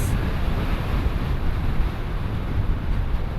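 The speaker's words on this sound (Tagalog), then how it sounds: "Lakas ng alon." Strong ocean waves roll against the Cebu coast near a ferry crossing, a broad, loud rush of surf mixed with heavy wind buffeting the microphone and no voices.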